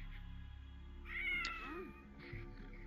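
A cat in The Sims 4 gives a single clear, fairly close meow, rising then falling, over a quiet game background hum.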